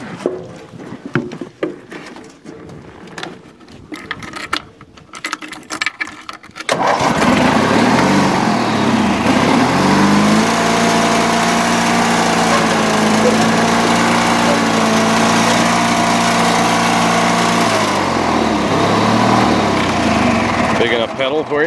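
A small lawn tractor, used for pulling a wagon, fires up after some handling clatter, then settles into a loud, steady close-up idle drone that runs unbroken before easing near the end.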